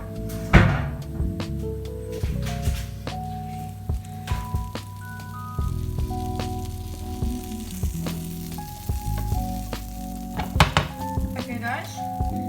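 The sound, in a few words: butter melting and sizzling in frying pan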